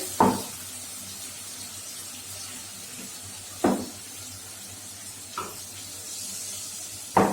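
Ground masala paste frying with tomato in a pan, a steady soft sizzle throughout, broken by a few sharp scraping stirs of the spoon at intervals.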